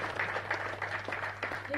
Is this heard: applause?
yes